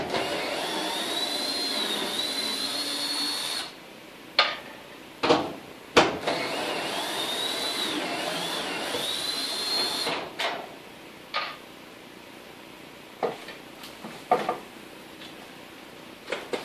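Power driver running on a garage door, a high whirring motor for several seconds followed by short bursts and clicks with pauses between, close and fairly quiet.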